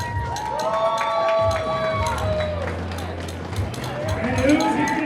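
Crowd at a junior roller derby bout in Kansas City, Kansas City Junior Roller Warriors versus Ad Astra Novas from Topeka, cheering and calling out steadily throughout, a loud arena wash with voices and whistling over it.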